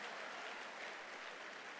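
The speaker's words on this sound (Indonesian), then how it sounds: "Tepuk tangan buat yang merokok ya." A church congregation claps together in a continuous, even burst of applause that fills the room, steady and moderately loud for its short length with no speech over it.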